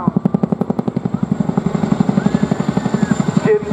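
A display helicopter dives and climbs through aerobatic manoeuvres with its nose pitched steeply up and down, the loud, fast, even chop of its rotor blades close and continuous, with a brief change in tone near the end.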